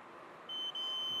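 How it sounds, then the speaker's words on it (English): An Atwood RV water heater's igniter sparker sounds partway through as a steady, high electronic beep that holds close and clear over a faint background hiss. "That's beeping, so that's the sparker piece, just like the one on your grill."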